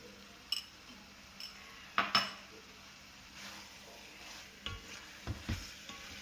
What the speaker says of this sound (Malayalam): നമുക്ക് നല്ലതായിട്ട് എല്ലാം കൂടെ ഇളക്കി കൊടുക്കണം